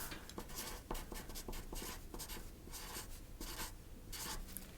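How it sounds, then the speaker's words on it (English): Pen scratching on paper, close and quiet, with continuous busy strokes and small tapping ticks across the whole stretch, no voice heard. "Let me just write that down."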